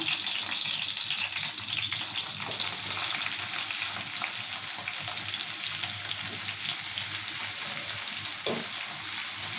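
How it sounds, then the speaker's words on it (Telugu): Onions and green chillies frying in hot oil for a cauliflower curry, a steady dense sizzle throughout with occasional soft stirring scrapes, close and fairly loud, no voices. "మిరపకాయలు మంచిగా వేయాలి నూనెలా ఇప్పుడు ఉల్లిపాయలు వేసుకుందాము"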